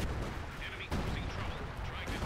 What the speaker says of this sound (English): Yeah, there we go. It's the mortar cover.